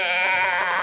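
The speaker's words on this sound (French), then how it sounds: "j'entendais la vache dehors" A cow calling outside a hotel room in Fribourg, heard as one sustained, loud, harmonic-rich bellow that fills the short moment without pause, with no talk over it.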